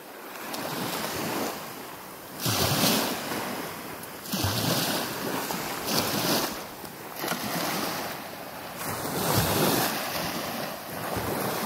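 Ocean waves at very high tide at Black Point at sunrise surge in rhythmic swells about every two seconds, each a broad rushing wash over steady wind noise, close and fairly loud with no talking.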